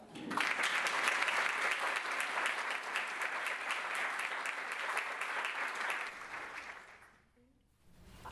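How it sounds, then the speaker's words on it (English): Audience claps to welcome a children's author onto the stage: sustained, full applause from a roomful of people, steady and fairly close, tapering off before a brief quiet near the end. "we're just going to clap in Miss Patricia Polacco."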